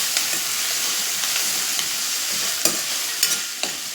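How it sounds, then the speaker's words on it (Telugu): Onions with turmeric fry in a pan with a steady close sizzle, while a spoon stirs them and scrapes the pan in occasional distinct scrapes, with no speech. "చూసారా కొద్దిగా వేగుతున్నాయి, ఇంకొద్దిగా వేగనిద్దాం."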